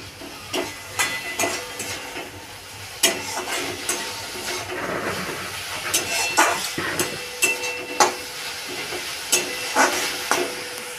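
Drumstick leaves fry over raised heat in a pan, a steady sizzle broken by repeated scraping and stirring strokes, close and fairly loud, with no talking.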